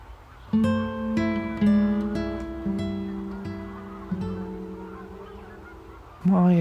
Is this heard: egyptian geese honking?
yes